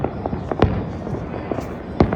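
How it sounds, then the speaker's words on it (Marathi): Firecrackers burst during Uttarayan kite festivities in Ahmedabad, giving a few sharp pops and a couple of louder bangs amid a noisy outdoor crowd ambience. "फटाके बघू शकता तुम्ही इकडे"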